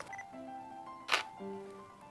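A single crisp shutter click from a camera set to manual mode at 1/125 second, short and close, over a faint steady background hum.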